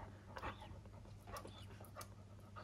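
A dog in labour during a normal whelping pants in quick, steady breaths, fairly faint and close over a low background hum, with no voices.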